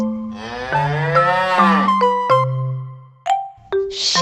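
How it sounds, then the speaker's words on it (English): Cow mooing in a long, loud, drawn-out low call with rising harmonics, followed by a few short chime-like tones, set among farm-animal sounds. "Cow,"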